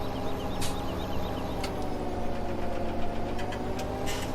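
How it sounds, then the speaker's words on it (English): A large tractor engine in Farming Simulator 17 runs at a steady low idle, a continuous moderate rumble with faint clicks and chirps scattered over it. "this thing's pretty quiet for such a large tractor"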